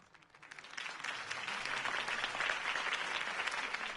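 A crowd applauds in a Batman video game campaign rally scene, the clapping swelling from quiet to a dense, sustained roar of many hands that stays full to the end.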